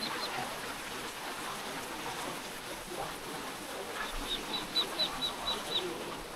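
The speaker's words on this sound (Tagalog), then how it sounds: "Maririnig nyo ang mga huli ng ibon. At tunog ng tubig." Soft, steady rush of flowing water at Marilag Falls (Three Falls) in Laurel, Santa Maria, Laguna, runs throughout, with a short series of repeated high bird notes chirping near the end.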